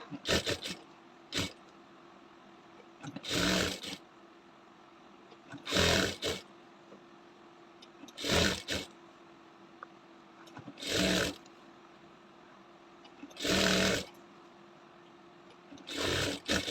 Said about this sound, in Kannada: ಸೇಮ್ ಅದ್ರ ಪಕ್ಕದಲ್ಲೇ ನಾನು ಸ್ಟಿಚ್ ಮಾಡ್ತಾ ಇದ್ದೀನಿ